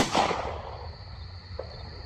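A single sharp report from a 3D-printed Hi-Point Model C pistol fired two-handed, loud and close at the very start, with its crack decaying into a steady outdoor hiss and a faint tap later.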